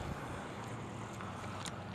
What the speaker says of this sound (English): it's kind of cold and windy